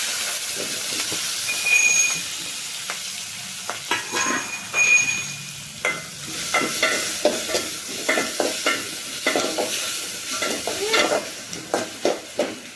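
Cumin, mustard seeds, turmeric, chilies and tomatoes sizzle in hot oil for a raw tomato sambharo, a soft continuous frying hiss broken by a run of sharp stirring clinks and scrapes, close and alone.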